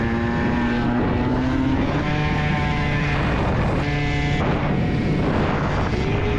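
A Yamaha Aerox scooter fitted with a Yasuni R exhaust is ridden along, its loud buzzing two-stroke engine droning continuously with rising and falling pitch as the throttle changes, mixed with rushing wind.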